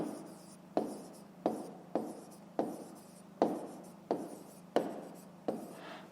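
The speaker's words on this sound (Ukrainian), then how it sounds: "Пишемо." A pen writes in a notebook with eight or so quick, evenly spaced strokes, each a soft scratch that fades out, close and faint with no talking over it.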